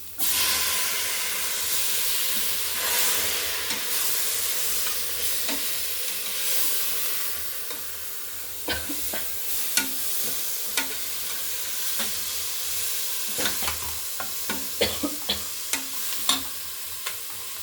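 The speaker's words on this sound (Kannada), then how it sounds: "ಇದಕ್ಕೆ ಕಟ್ ಮಾಡಿರೋ ಟೊಮ್ಯಾಟೊ ಹಾಕ್ಕೋಬೇಕು" Chopped tomatoes for vegetable pulao frying in a pan, a steady loud sizzle and hiss throughout, with a spatula scraping and clinking against the pan in sharp taps toward the end.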